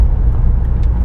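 BMW Z3 M Coupé with its 3.2-litre engine running, a loud, steady low rumble close by with no break and no voices.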